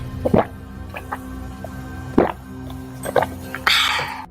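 Sound effect in a Hindi horror story of someone drinking water straight from a clay pot: a few wet gulps and squishy drips spaced irregularly, ending in a brief splashy burst, fairly close and alone.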